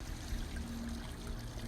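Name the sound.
water pouring into a trough for a farm animal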